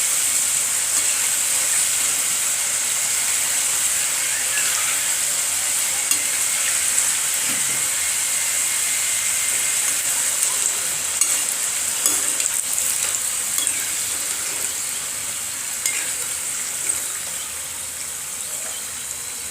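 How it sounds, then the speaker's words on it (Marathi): Kapnya sweets for Ashadh deep-frying in hot oil, a steady dense sizzle and crackle running throughout at close range with small bursts of bubbling, no voices. "तुम्ही पाहू शकताय बाकीचे राहिलेले ही आपण तळून घेऊया."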